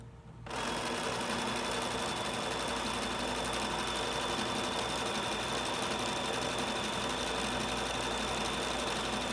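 Sewing machine running steadily while stitching a blanket stitch along the edge of fabric appliqué, a continuous close mechanical whir that starts after a brief quiet moment and holds without pause.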